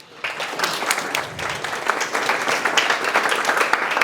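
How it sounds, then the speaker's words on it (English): A seminar audience at a real-estate listing bootcamp breaks into applause for a presenter, clapping starting abruptly after a brief quiet and building into a steady, moderately loud round with a few sharper claps. "how about a round of applause for Willie?"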